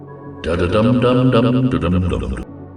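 A short, melodic jingle from Pirate Cove in the game Five Nights at Freddy's, a bouncy tune playing loudly for about two seconds, starting abruptly and cutting off cleanly.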